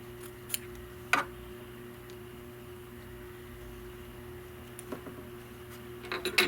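Scissors trim quilt fabric for a Kimberbell mistletoe project: a few crisp snips spaced apart over a low steady room hum, with a quick cluster of cuts at the end.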